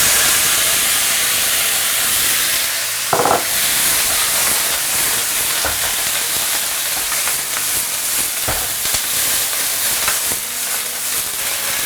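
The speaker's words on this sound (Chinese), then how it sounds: "快速下入豆芽。" Bean sprouts stir-frying in a hot wok with lard, dried chilies and Sichuan peppercorns, a loud continuous hissing sizzle like steam, broken by a few clanks of the spatula against the wok.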